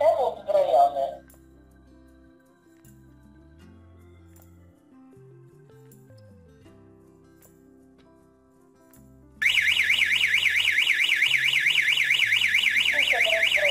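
A Satlink SL-GSM10C GSM alarm arms, with an electronic voice announcement and faint tones followed by a sudden loud, fast-warbling siren tone that holds steadily at close range.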